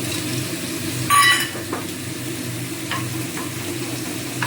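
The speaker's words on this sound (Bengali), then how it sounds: "এবারে একটু ফোড়ন দিয়ে দেবো, এই তেজপাতা আর এলাচ," Whole spices (bay leaf, cardamom, clove, cinnamon) dropped into hot oil in a pan, giving a brief loud sizzle burst that settles into a steady low crackle with occasional small pops.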